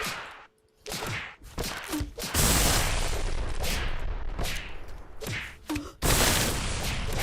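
Machine-gun fire from an L6 in the Space Station 14 video game: several dense bursts of rapid shots, loud and close, with short pauses between them and no talking over them.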